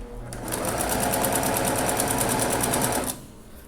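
A sewing machine with a presser foot stitches fabric in a fast, even burst of needle strokes lasting a few seconds, loud and close, then stops abruptly.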